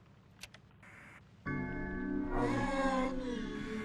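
A few soft clicks and brief electronic blips from a toaster in the horror video game The Baby in Yellow give way to a steady, bright electronic hum with layered tones that continues to the end.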